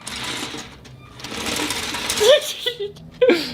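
A homemade toothbrush robot's small motor buzzes in short mechanical bursts while brushing teeth with toothpaste, close and uneven, with a voice speaking over it.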